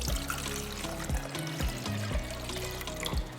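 Water pours into the water tank of a Nespresso Essenza Mini coffee machine, a steady close trickle and gurgle with rising bubbling tones throughout.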